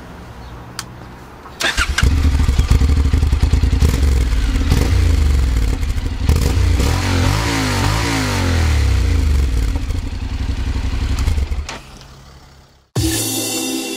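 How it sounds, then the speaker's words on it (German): A Honda NC750X motorcycle engine cranks and catches, then idles and revs up and down in several rising and falling sweeps, loud and close, before cutting off abruptly near the end. "dann machen wir auch mal eine virtuelle Probefahrt mit der Honda NC750X"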